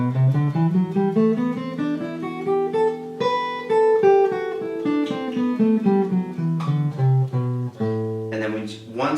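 Guitar scale run played on one instrument, climbing through the E shape of the CAGED system and then descending through the D shape, a steady stream of clear single notes alone, near and moderately loud.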